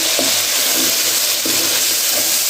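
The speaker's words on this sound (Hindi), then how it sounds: "ये देखो हमारा मसाला कितने अच्छे तरीके से भूनते" Masala of turmeric, coriander powder and tomato roasting in hot oil for a palak and chana dal dish, a steady close sizzle with soft stirring scrapes and no talk.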